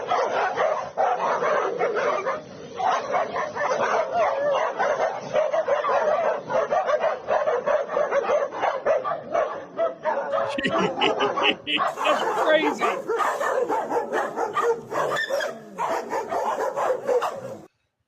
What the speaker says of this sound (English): That dog didn't even have to touch the other dog, and the other dog squealed in horror.